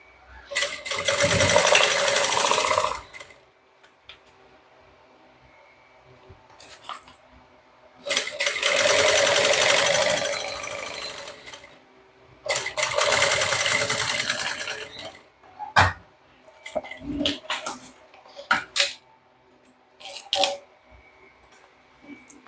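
A sewing machine runs in three bursts of steady whirring while stitching the lining of a small bucket bag, with quieter clicks, handling noises and brief pauses between runs.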